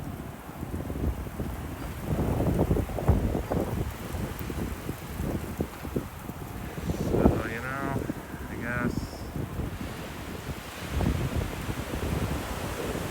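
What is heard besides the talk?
strong howling wind gusts outdoors in the cold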